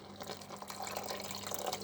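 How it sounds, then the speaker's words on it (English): Water pours and splashes into a pot of BBQ steak casserole, a soft continuous trickling with small bubbly drips, quiet and close. "Going to add a little bit of water"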